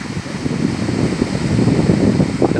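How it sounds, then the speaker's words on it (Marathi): The Napne waterfall near Vaibhavwadi in Sindhudurg roars as a dense, continuous low rumble mixed with gusty wind buffeting, loud and close, with no talking. "इथे वाऱ्याचा सुद्धा आवाज येतोय तुम्हाला शिवाय जो आवाज येतोय तो जोरदार आवाज आहे या नापणे इथे धबधबा"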